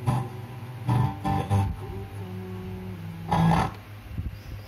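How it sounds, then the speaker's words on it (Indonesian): A TENS TS 981 car tape radio plays after being switched on, giving faint, muffled music with sustained tones and swelling bursts, steady and fairly quiet. "bisa anda dengar sendiri radionya ini bunyi pada radio tipnya"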